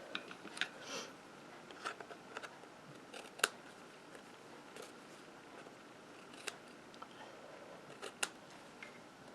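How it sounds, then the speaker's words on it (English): Scissors snip the edges off a paper card, giving faint, sparse crisp clicks and short cuts spread over several seconds in a quiet room. "We're going to turn it over and cut off those edges."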